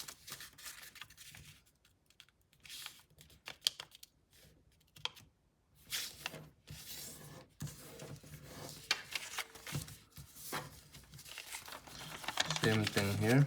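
Sheet paper is unfolded and creased into a SAAB-37 Viggen paper plane, giving close, intermittent crinkles, rubs and sharp crease sounds that come in bursts across the stretch and grow busier toward the end.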